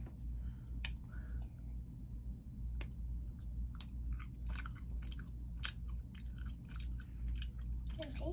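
A toddler chewing Japanese bubblegum up close, with soft wet smacking and clicking mouth sounds coming in irregular bursts over a quiet background, faint voices now and then.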